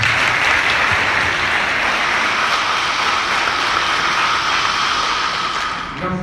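A seated audience at a French-language public event applauds continuously for about six seconds, a dense, even clatter that fades slightly at the end.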